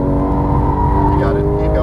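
A Porsche 911 GT3 accelerates hard on a race track, its engine droning loud and close with a rising pitch, under an instructor's voice.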